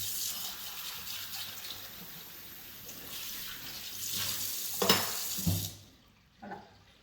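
Hands are rinsed under a running tap in a kitchen sink, a steady close rush of water for several seconds with a few splashes near the end. The flow then cuts off, and a faint clatter follows.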